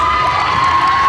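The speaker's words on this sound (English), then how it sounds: "Wow, that is a really loud cheer" A loud crowd cheering and shouting at Open Air Fest, a brief dense burst of voices with a sustained whistle-like tone over it.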